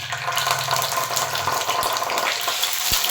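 Ginger paste fries in the oil left from cooking paneer and is stirred, making a loud, dense sizzling hiss with a dull scrape of the spoon near the end.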